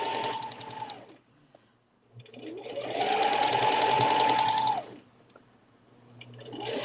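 A sewing machine stitches fabric for a dog bandana in two loud close runs, its motor whining up to speed and winding down with a pause between.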